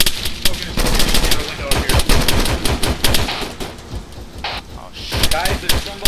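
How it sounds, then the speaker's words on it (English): Gunfire in the military video game ARMA 3 crackles in rapid, dense bursts of automatic fire with sharp shots at near and mid distance, continuing throughout under intermittent radio voices. "There's somebody on the second floor shooting."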